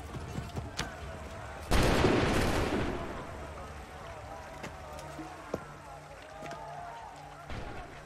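A volley of musket gunfire in Assassin's Creed III bursts out as one loud, rolling blast that fades over a second or so, with shouted commands and battle noise around it.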